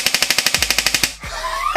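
Specna Arms SA-E07 electric airsoft rifle (AEG) firing a full-auto burst: about fourteen sharp, rapid, evenly spaced shots close by, then it stops abruptly, leaving a quieter rustle.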